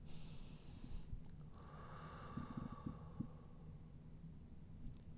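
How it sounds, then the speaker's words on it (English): Slow breathing in and out during a lying-down mindful practice, soft and close, with a low steady hum and faint snort-like breath bursts over about five seconds and no talking. "I just let that sound of the breathing come in and out"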